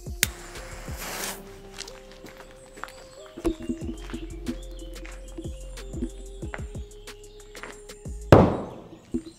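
A Bomb H firecracker bursts under a carpet with a muffled, heavy bang near the end, trailing off quickly. Scattered knocks and clatter come before it, along with an earlier shorter burst.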